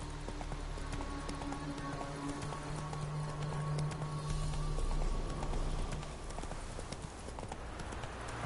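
A horse gallops in The Witcher video game, its hoofbeats a steady rapid clip-clop under game music and ambience, with some speech mixed in.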